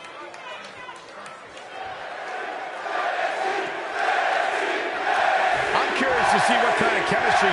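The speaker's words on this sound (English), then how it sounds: "This is the one this crowd has been waiting for" Crowd roars and cheers from a WWE 2K20 video game wrestling arena, a dense steady wall of noise that swells louder toward the end, with commentators' voices speaking over it.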